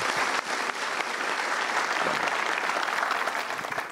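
A dense, steady wash of audience applause at a motivational seminar fills four seconds, loud and even throughout.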